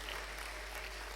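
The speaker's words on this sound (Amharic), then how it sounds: "አጨብጭቡ ለጌታ ክብር።" Faint, steady clapping from a church congregation, a soft continuous patter with no separate beats standing out.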